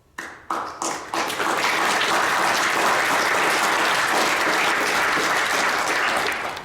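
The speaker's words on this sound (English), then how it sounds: "I personally want to thank you and give the command my round of applause" Audience applause at a Navy change of command ceremony: a few scattered claps build within a second into loud, sustained clapping from a large crowd that carries on steadily to the end.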